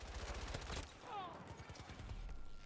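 Bursts of rapid gunfire from a newly unlocked gun in Battlefield 2042, fairly quiet, with repeated shots in short volleys and a short pause mid-clip.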